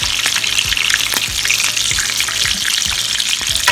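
Lamb chops sizzle fat side down in a hot pan, a steady bright crackle of frying fat running throughout with small pops scattered across it, close and fairly loud.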